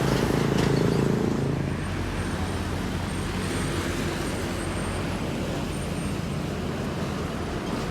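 At night a long-distance coach on a city street near a bus depot in Palembang rumbles up with a heavy low engine drone, louder in the first seconds and then settling into steady traffic noise.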